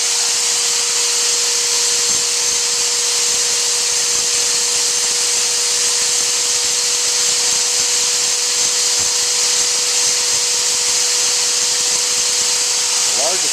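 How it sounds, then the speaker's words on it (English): A foot-switch-driven grinding or cutting wheel reshapes a broken hammer, giving a steady, loud high-pitched whine that runs unbroken throughout with no pauses. "So it's got a basically a grinding or cutting wheel on it, and we're going to do some reshaping on this thing."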